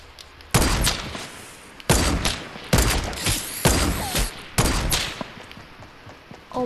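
Repeated loud gunshots from Fortnite squad-match gameplay, with a sniper involved: five sharp, heavy blasts about a second apart, each trailing into a short rumbling decay over steady background noise.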